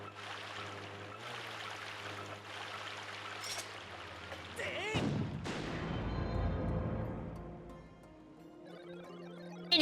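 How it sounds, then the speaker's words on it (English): Cannon fire at a pirate ship in the Skyward Sword video game: one deep booming blast midway, following a steady game soundscape and trailing off into a washing rumble. "We must pursue and keep pounding on it with the cannon."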